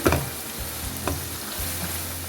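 Rohu fish pieces, rubbed with turmeric, fry in hot oil with a steady close sizzle, broken by a few scraping clicks of turning or stirring.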